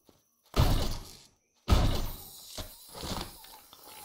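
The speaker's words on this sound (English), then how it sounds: "I'll take out some spiders with the shotgun here." Two loud, close shotgun blasts ring out about a second apart in the survival game Empyrion: Galactic Survival, each a sharp broadband boom with a short tail, followed by softer thuds and rumbling game noise.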